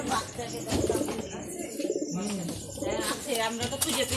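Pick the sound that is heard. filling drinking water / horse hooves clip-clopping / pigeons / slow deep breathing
pigeons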